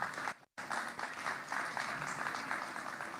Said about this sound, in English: Please, another round of applause for the ladies.